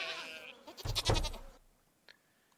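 A sheep bleats on a farm in Stardew Valley, a short wavering cry rising to a louder peak and fading, followed by a faint distant blip.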